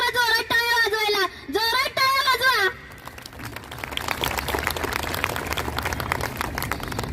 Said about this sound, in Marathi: एकदा स्वतःसाठी जोरदार टाळ्या वाजवाव्यात